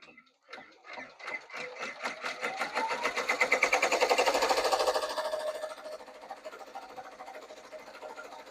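An embroidery machine stitches cursive letters in yarn with a rapid, even mechanical chatter. It swells louder mid-clip and then eases off, close up with no one speaking.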